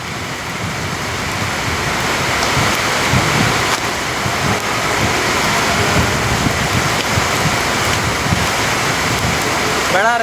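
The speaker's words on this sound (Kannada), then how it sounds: "ಫುಲ್ಲು ಜೋರು ಮಳೆ ಬರ್ತಾ ಇದೆ" Heavy rain pouring at Malpe near the coast, a dense, continuous loud hiss and roar with no breaks from start to finish.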